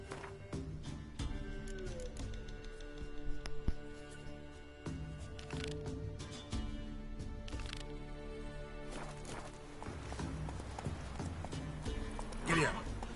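Roach the horse gallops in The Witcher video game, steady hoofbeats clip-clopping under game music and a voice calling out, with a brief whinny near the end.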